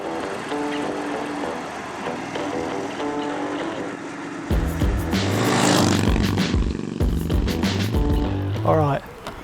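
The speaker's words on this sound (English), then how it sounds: "I took my 1947 WLA Harley out for a spin" A 1947 Harley-Davidson WLA motorcycle being ridden, its engine droning steadily at first, then louder and rougher as it revs and pulls away, with voices heard over it.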